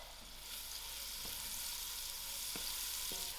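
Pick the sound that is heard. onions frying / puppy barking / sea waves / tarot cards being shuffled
onions frying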